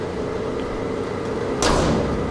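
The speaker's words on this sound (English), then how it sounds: "just want to see how the door shuts." Door of a Ford F100 truck under bodywork repair swinging shut with a single sharp bang at the end, following steady background hum.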